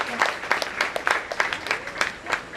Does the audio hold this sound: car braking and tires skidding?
no